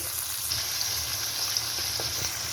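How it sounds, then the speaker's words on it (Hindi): Onions and beef frying in a pan for bhuna beef masala: a steady, dense sizzle with faint crackles and occasional stirring scrapes, close and continuous, no talking. "इसीलिए पहले हम प्याज और गोश्त को जो है ना अच्छी तरह फ्राई करेंगे"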